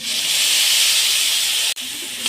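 Tomato-based spice paste hits hot oil in a pan for a vegetarian taro curry, giving a loud, steady hissing sizzle that briefly cuts out near the end and then resumes, with no talking.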